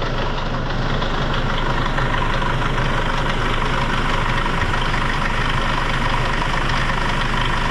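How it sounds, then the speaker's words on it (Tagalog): A Hyundai Starex with a D4CB diesel engine and a worn timing chain runs loud and close, its rough clattering knock steady throughout, with no talking. "May parang humahampas dyan dito sa harap na makina."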